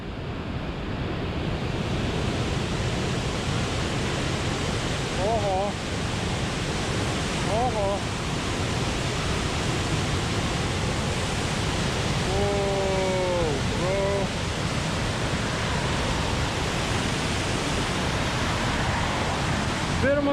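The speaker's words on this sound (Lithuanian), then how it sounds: "Pirmas krioklys toks didesnis." A large waterfall near a lake between hills roars as a loud, constant, broadband rush throughout, with a few brief tonal chirps rising above it.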